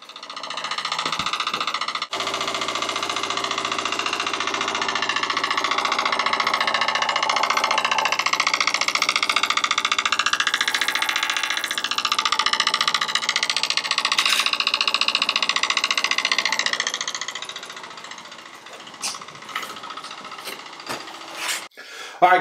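GasTapper electric fuel pump running inside a Jeep Wrangler fuel tank setup, a steady close whine and hum that holds for about seventeen seconds, then cuts off, leaving a few faint clicks.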